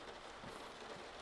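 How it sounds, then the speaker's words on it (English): Soft, steady rain patters continuously on a surface, faint and even throughout with no voices. "It seems like the rain is calming down."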